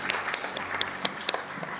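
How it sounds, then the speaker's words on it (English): Scattered, sparse clapping from a small audience at a Columbus city council meeting, a handful of distinct sharp claps spaced irregularly over a couple of seconds. "Yeah, we can clap for that."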